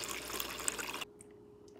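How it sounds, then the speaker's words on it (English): Tap water rushes into a cup holding a little chocolate powder in a steady stream for about a second, then cuts off, leaving a few faint clinks. "now let's fill this up with some good old water"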